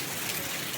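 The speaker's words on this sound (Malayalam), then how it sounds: "മഴയുണ്ട്, കോടയും വരുന്നുണ്ട്." Steady morning rain falls outdoors at Kakkadampoyil amid mist, a dense, continuous hiss of drops on surfaces close by with no voices.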